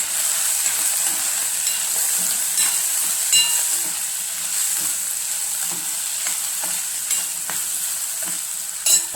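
Turmeric being stirred into a sizzling mixture in a pan while making poha, a continuous bright hiss of frying with scattered scraping clicks of a spoon against the pan.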